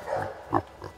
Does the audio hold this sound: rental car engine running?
no